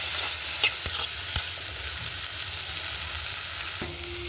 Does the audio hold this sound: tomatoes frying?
yes